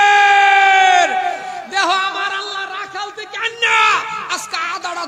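A large crowd at a religious gathering roars a unison response to a takbir call, loud shouted chants rising in several waves, with no separate speaking voice.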